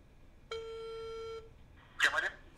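A telephone sounds one steady electronic tone for about a second, followed by a short burst of speech, heard indoors at moderate level.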